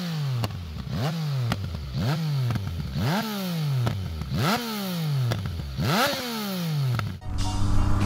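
Yamaha MT-09 motorcycle revving repeatedly in a steady rhythm, each blip of the throttle rising and falling, with sharp exhaust pops and crackles on the overrun, loud and close, no talk.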